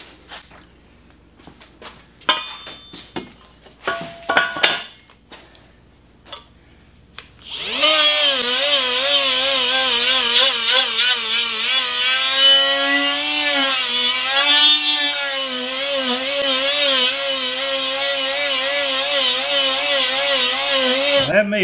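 Shop clatter and handling noises give way to a power tool spinning a Scotch-Brite abrasive against metal, a loud steady whir with wavering pitch that continues to the end.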